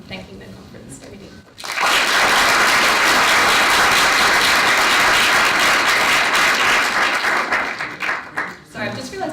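A conference audience at EAGxAustralia 2018 bursts into loud, sustained applause after a short quiet lead-in, the clapping holding steady for several seconds before thinning out.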